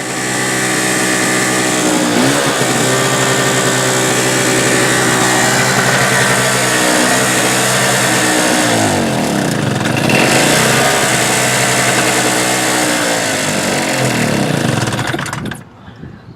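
A Harbor Freight Storm Cat 2-cycle generator engine runs loud and close, running lean after its fuel is shut off; its buzzing drone wavers and surges before sputtering out and dying at the end.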